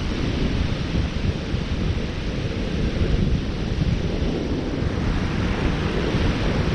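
Strong coastal wind roars steadily across the microphone while someone fishes for kob with octopus-leg bait. The rumble is loud and continuous for the whole stretch, with no voices.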